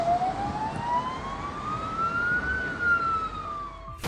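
A single loud siren wails steadily, its pitch slowly rising and then falling, over a low rumbling background before it cuts off abruptly.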